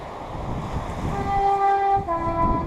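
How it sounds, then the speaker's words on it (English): A train passes by near woodland, rumbling and swelling in loudness, with its horn sounding steady tones in the second half. "Oh, there's a train gone past."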